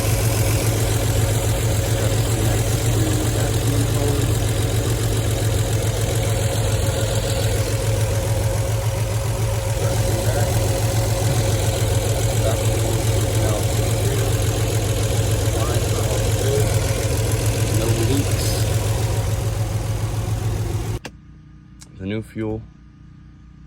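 Nissan 300ZX engine idling steadily after a new fuel pressure regulator was fitted, a constant low running drone close by that cuts off near the end, followed by brief clunks.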